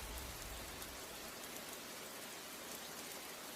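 Steady rain falls in an unbroken hiss, heavy and even throughout, with no voices.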